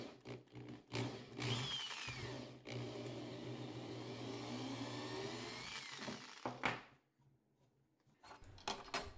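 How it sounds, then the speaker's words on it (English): Power drill boring pilot holes through a jig into a 3D-printed guitar body for the neck screws, a close steady whine running about six seconds between brief pauses, with no talking. "Using a square jig, I can finally drill the pilot holes."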